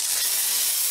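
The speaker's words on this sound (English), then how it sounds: "It's a steam cleaner." A Dupre Neat steam cleaner releases a loud, steady, close hiss of steam, used to clean a spider-mite infested space, with no voices over it.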